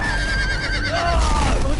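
A horse whinnies loudly and close by in a Game of Thrones video game. One long neigh falls in pitch over a steady background of game noise.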